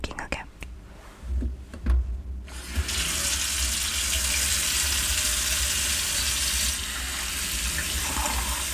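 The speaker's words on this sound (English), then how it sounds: "Let me first pour some water," Tap water runs into a sink filled for washing dishes. After a few seconds of quiet handling noises, a loud, steady, close rush of water starts and continues unbroken to the end.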